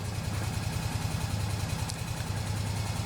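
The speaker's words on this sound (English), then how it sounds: "Got his four-wheeler fired up." A four-wheeler's small engine idles steadily nearby with a low, rhythmic chugging that holds constant throughout, no voices.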